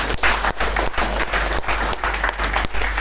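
Audience at a direct selling leadership program in Digha breaks into loud, steady applause, dense clapping sustained throughout without pause.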